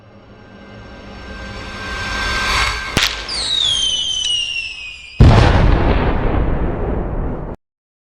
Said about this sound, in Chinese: 挺好看的烟花